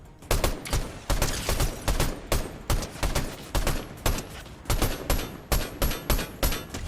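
SMG fire in Fortnite Chapter 5, rapid repeated bursts of close, loud automatic shots with short pauses between them, heard alone.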